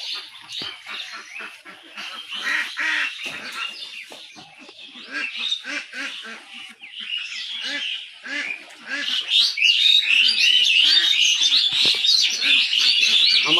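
Ducks on a duck farm with a pond, many birds quacking and chattering together nearby, the chorus growing louder and busier toward the end.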